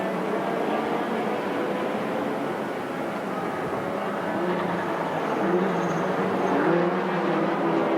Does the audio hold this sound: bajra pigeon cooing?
no